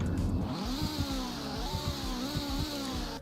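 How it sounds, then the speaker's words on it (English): Virtual car engine revving hard in the Roblox game Greenville Wisconsin, a loud, continuous engine roar with rhythmic pulsing surges throughout, close up with no talking. "Here, I'll rev it again, then we can quickly hop in and out for the startup sound."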